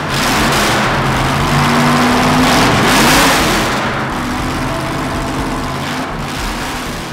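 Loud, close engine noise from a Shelby Cobra fitted with a Ford 427 side oiler V8, a deep rumble that swells into a rev around the middle before settling back, with no talking.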